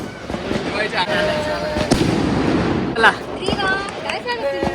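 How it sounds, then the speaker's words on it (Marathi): Diwali firecrackers burst in a rapid, loud string of sharp cracks and pops over a crowded festive scene, with people chattering throughout the barrage. "चला फटाके"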